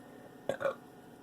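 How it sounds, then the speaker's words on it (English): A single short burp, two quick throaty pulses close to the mic, in an otherwise quiet room. "I always hate when I burp"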